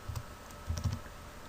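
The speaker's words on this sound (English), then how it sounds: "hit enter on your keyboard" Two short bursts of soft keyboard key presses, the second a cluster of clicks around a CAD drawing session, close and quiet with no talk.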